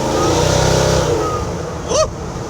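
The boosted engine of a 1965 Chevrolet C10 pickup revs steadily and loudly, a deep rumbling drone that swells briefly near the end before settling back.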